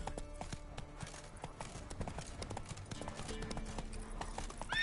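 Hooves of Roach, a horse in The Witcher 3 video game, clip-clop in a steady quick rhythm, a dense patter of hoofbeats running throughout with faint background game ambience.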